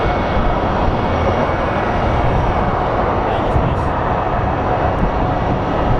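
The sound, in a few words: airliner landing at Phoenix Sky Harbor airport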